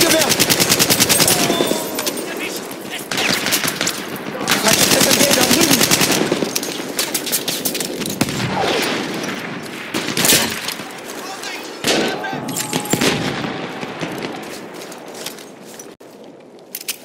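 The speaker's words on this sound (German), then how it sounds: "Ein Maschinengewehr!" Machine gun fire in the first-world-war shooter Battlefield 1 during a team deathmatch, bursts rattling loudly and almost continuously with scattered other shots, while players talk over the battle.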